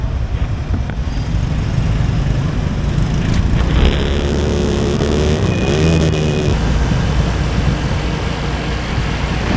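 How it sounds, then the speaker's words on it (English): Busy city street traffic in Vietnam, a dense steady roar of engines, likely scooters and cars, running continuously and loudly throughout with passing vehicle swells and no talk. "Traffic is nuts, huh?"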